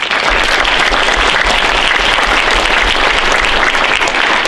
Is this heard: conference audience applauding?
yes